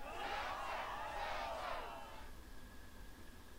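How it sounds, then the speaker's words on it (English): A crowd chanting and cheering for Setzer in the Kingdom Hearts II arena game, a loud roaring swell of many voices over about two seconds that then fades to quiet background. "And I'd be right in with the crowd, chanting Setzer."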